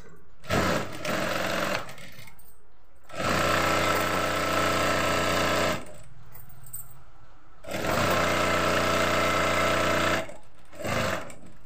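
Close, loud bursts of sewing machine stitching along a joined seam on a kurti, three long runs of rapid mechanical chatter separated by short pauses with a few quick taps in between.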